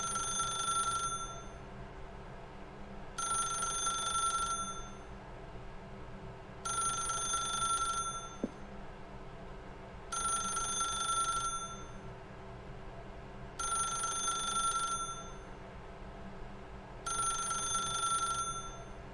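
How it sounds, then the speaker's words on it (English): A telephone rings in The Stanley Parable: Ultra Deluxe, six evenly spaced bursts of bright electronic trilling, each about a second and a half long, moderately loud over a quiet steady background hum with no talking. "then pick up the phone"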